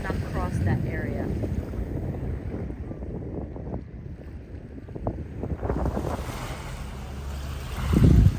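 A water taxi motors across the sea toward Klein Bonaire, with a steady engine drone, wind buffeting and waves splashing against the hull, and people talking faintly now and then.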